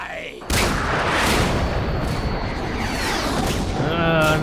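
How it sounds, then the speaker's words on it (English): A barrage of missiles slams down in Metal Gear Solid 2, an abrupt loud blast that grows into a dense, rumbling wall of overlapping explosions, with brief sharp bursts and a voice cutting in near the end. "That's a lot of missiles."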